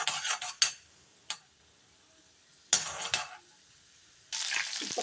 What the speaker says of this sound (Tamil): கடலைப்பருப்பு கொஞ்சம் போட்டிருக்கேன். இது கொஞ்சம் பொன்னிறம் ஆகணும்.